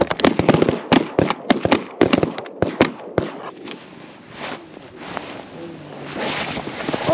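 Shotgun blasts during a duck hunt, a rapid volley of loud sharp shots in the first three seconds, followed by wind noise and a quiet outdoor backdrop.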